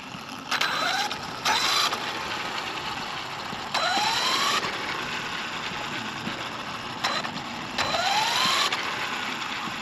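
A Traxxas Maxx-Slash RC car makes repeated speed passes, its electric drivetrain whining up in pitch through several loud bursts with quieter gaps between, no talk.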